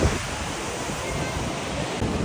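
Water rushes and spreads at a waterfall in Gwalior, a steady broadband roar filling the whole stretch with a gusty swell near the start and end.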